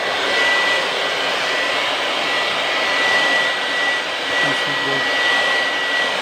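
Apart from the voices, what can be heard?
air blower cleaning an air conditioner outdoor unit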